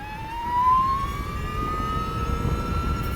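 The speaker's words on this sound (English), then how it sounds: "So, one extreme to another, eco mode, full throttle. This is maximum throttle." Energica Eva Ribelle RS electric motorcycle at full throttle in eco mode, a rising then steady electric motor whine over rushing wind and road rumble.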